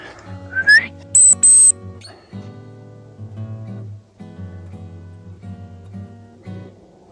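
Sharp, high whistle blasts from a person calling a dog on a countryside walk past a farm: a rising mouth whistle, then two long shrill dog-whistle tones, followed by softer steady tonal whistling with no talk.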